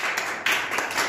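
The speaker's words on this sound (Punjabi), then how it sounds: "ਤਾੜੀਆਂ ਹੋ ਜਾਣ ਬਈ।" Audience at a student debate competition claps briefly, a dense patter of hand claps lasting about a second, with no speech over it.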